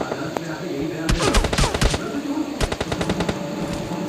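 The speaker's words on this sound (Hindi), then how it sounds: "वो भाई साहब गोली चला देते हैं" Gunfire in PUBG Mobile Lite crackles in rapid automatic bursts, two dense volleys of sharp close shots separated by a brief pause, with a few single shots trailing off.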